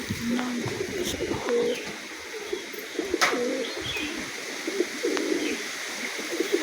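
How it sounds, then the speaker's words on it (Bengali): Repeated low rolling coos from a male giribaz pigeon, a series of short throaty calls close by, interspersed with faint chirps and light background noise, no voices. "এই একটা গিরেবাজ পায়রা দেখাচ্ছি দেখুন।"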